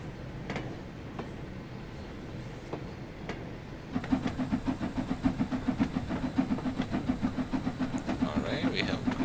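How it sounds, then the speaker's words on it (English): An LMS Class 8F steam locomotive in the Train Sim World 4 game labours uphill from a standing start. A voice talks over faint rumbling at first, then a steady rhythmic chuffing builds into regular, heavy pulses that hold to the end. "So that's the reason why the train's struggling to gain some speed."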